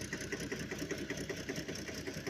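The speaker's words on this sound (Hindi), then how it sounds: "ट्रैक्टर इस तरह से चल रहा है" A tractor engine runs during peanut harvesting in a field, a steady, loud, throbbing mid-pitched drone with an even pulsing rhythm throughout.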